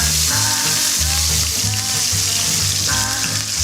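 Shallot onions fry in sunflower oil for Swahili beef pilau, a loud continuous sizzle right up close with bubbling crackle and the occasional scrape of stirring.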